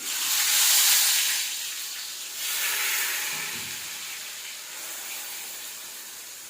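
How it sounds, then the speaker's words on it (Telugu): Masala spices frying in hot oil in a pan for a mushroom curry, a steady loud hiss and sizzle that swells at the start and again midway, continuous with no talk. "మసాలాని బాగా రోస్ట్గా వచ్చే వరకు, నూనె పైకి తేలే వరకు బాగా ఫ్రై చేసుకోవాలండి"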